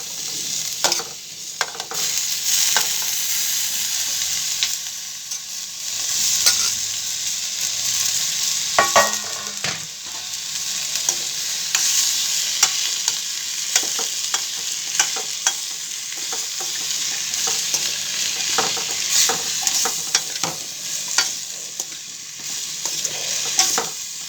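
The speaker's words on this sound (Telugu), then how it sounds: "ఆలుగడ్డలు వేసేసుకుందాం." Potatoes fry in a pan with a continuous bright sizzle, broken by repeated scraping and clinking as they are stirred at irregular intervals, close and moderately loud.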